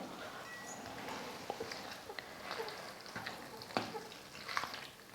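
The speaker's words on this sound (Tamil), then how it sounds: "மசாலாலாம் சேர்த்ததுக்கப்புறம் கொஞ்சம் நேரம் வதக்கிக்கலாம்." Soft sizzling as masala for potato kurma sautés in a pan, with occasional stirring scrapes and taps, close up and steady, no voices.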